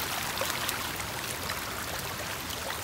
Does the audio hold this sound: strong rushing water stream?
yes